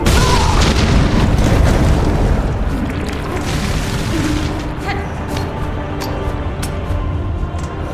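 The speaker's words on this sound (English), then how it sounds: "it's their bodies explode" Enemy bodies explode in the video game Silksong as a dense run of loud, overlapping booms and bursts that slowly thin out, with no talk.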